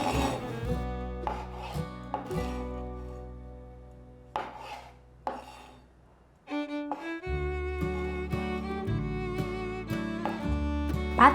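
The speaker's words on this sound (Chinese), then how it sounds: "把草菇对半切" Knife slicing canned straw mushrooms in half on a cutting board, a series of crisp, separate chopping taps, some doubled, sounding close over steady background music with no talking.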